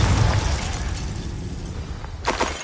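A Confringo blasting spell explodes in the video game Hogwarts Legacy, a loud rumbling boom with crackling debris that fades out, then a sharp burst of shattering near the end.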